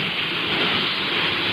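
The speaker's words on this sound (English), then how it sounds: "the sound of rain." Steady rain falling in a 1956 radio broadcast, a dense even hiss of drops with no break, heard alone.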